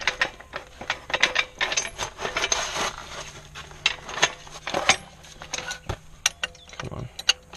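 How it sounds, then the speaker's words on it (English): A car jack being pumped under a 2001 Chevy Cavalier to lift the subframe gives a series of sharp metallic clicks and ratcheting clanks in an uneven rhythm, close by, with no talking. "I'm gonna jack it up right here."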